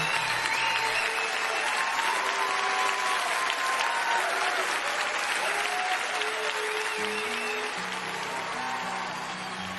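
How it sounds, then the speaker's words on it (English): An audience claps at a Storytellers music show, sustained applause for nearly ten seconds with scattered cheers and voices mixed in, easing slightly toward the end. "Thank you for clapping for me."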